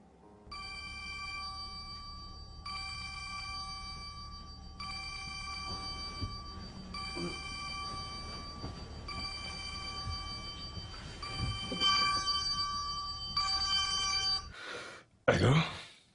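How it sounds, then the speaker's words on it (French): A telephone rings in a repeating electronic pattern of bursts separated by short gaps, steady and moderately loud, ending with brief handling noises. "Décroche ton téléphone!"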